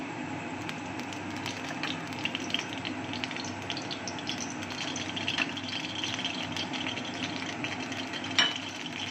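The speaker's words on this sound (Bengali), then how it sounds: "প্রথমে আমি কড়াতে সাদা তেল দিয়ে দেব।" White cooking oil goes into a wok, a steady broadband wash of hiss and faint liquid trickling with a few small clinks, close and moderately quiet, no voices.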